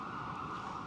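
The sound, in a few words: emergency siren in New York City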